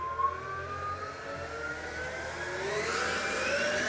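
A Stihl BGA 56 battery leaf blower with an AP 300S battery spins up, its whine rising steadily in pitch and loudness as the throttle is squeezed, close and alone.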